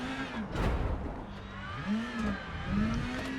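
A rally car engine in the WRC 10 video game, revving up and down in repeated rising and falling sweeps as gears change, with a whirring drivetrain tone and close, moderate loudness.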